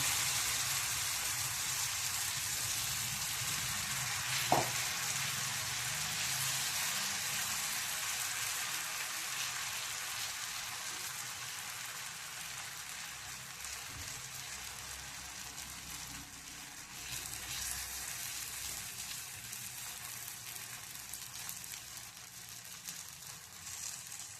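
Spinach thalipeeth sizzles in oil on a hot griddle, a continuous hissing crackle that fades slightly and then rises again, with one brief sharp pop near the start.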